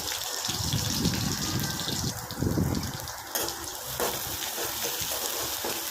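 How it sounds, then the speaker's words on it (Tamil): Sliced shallots sizzle and sputter in hot sesame oil in a pan, a dense crackling hiss with bursts of louder frying near the start, steady and close with no talk. "நம்ம சின்ன வெங்காயம் நறுக்கி வச்சுருக்கோம் இல்லையா, அதை போட்டுருவோம். போட்டுட்டு நல்லா வதக்கி விட்டுக்கிறணும்."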